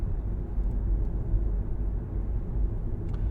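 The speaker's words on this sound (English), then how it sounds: "I jolted awake from the sound of a car engine" A car engine runs at a steady idle, making a continuous low rumble at a moderate level with no voices.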